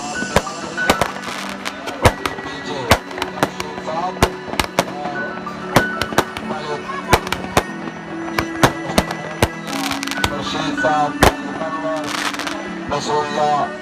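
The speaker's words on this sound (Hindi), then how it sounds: "आतिशबाजी का खूबसूरत गुजारा" Fireworks bursting at an outdoor football tournament in Pakistan, a rapid string of sharp cracks and pops scattered over a continuous crowd murmur, with voices audible throughout.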